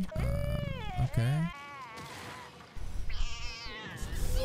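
An animated cat in a JoJo's Bizarre Adventure Part 3 anime episode meows and wails, several loud drawn-out meows with rising and falling pitch, close and clear, separated by a short quieter gap.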